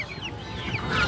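Tiger chickens, about one and a half months old, clucking at a busy poultry market, a few short calls over a low background murmur of market noise.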